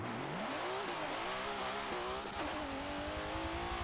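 Nissan S13 fitted with an RB26 twin-turbo engine revs in Forza Motorsport 7 drag racing, a loud continuous engine roar climbing and shifting pitch with sustained high revs and a brief dip partway through.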